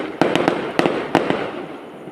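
Fireworks at a lighting ceremony display in San Nicholas, Pangasinan, popping in a quick irregular string of sharp cracks over a rushing background, then fading.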